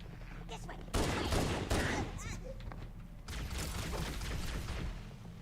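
Continuous automatic gunfire in a shooter video game, a dense rattling fusillade that swells and eases across a few seconds, heard amid other game noise with talk in the background.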